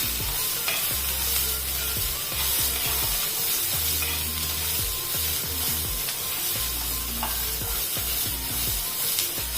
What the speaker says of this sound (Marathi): तेलामध्ये चांगलं परतवून घ्यायचं।